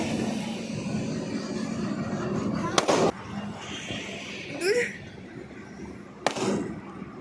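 Diwali firecrackers burst outdoors with a few sharp, loud cracks spaced seconds apart and a brief rising whistle between them, over a constant background hum and some distant voices.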